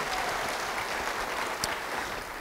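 A church congregation applauds during a sermon, a steady wash of dense clapping filling the space at moderate level with no voices on top, holding evenly throughout.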